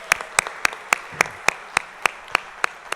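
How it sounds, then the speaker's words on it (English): A single person claps at a city council meeting for honoured city departments, about a dozen sharp, evenly spaced, fairly close claps over three seconds with a faint room murmur. "So give them a round of applause."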